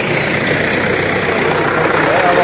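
A tractor carrying bricks toward Dhading runs its engine in a loud, steady drone, close by and unbroken throughout, with no other sound rising above it.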